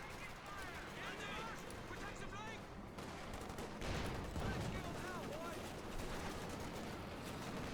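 Heavy gunfire and explosions fill a Company of Heroes 2 battle, where a Panzer IV tank fires amid constant machine-gun bursts, distant booms and chirping battlefield effects, with a voice talking over the din.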